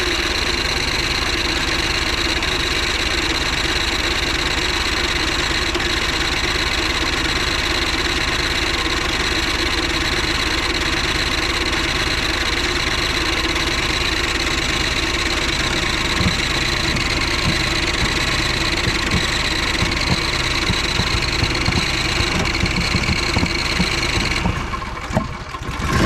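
A 2011 Craftsman PYT 9000 lawn tractor engine with a dirty carburetor runs steadily after a dose of starter fluid, a close, loud, continuous chugging idle that falters and cuts out near the end.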